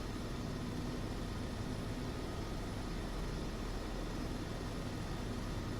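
Airbus H130 helicopter in flight in Microsoft Flight Simulator 2024, a steady, faint, continuous engine and rotor drone without change, no voices.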